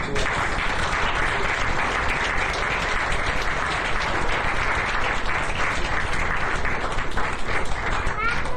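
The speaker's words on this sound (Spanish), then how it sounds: "Un aplauso para recibirlo." An audience at a film masterclass in Chihuahua applauds to welcome a speaker, dense sustained clapping filling the room for several seconds at a steady loud level.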